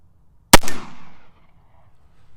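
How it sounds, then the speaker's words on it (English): An original Colt Pocket Navy revolver fires one loud, sharp gunshot close by, followed by a short decaying echo. "let's try that last shot one more time"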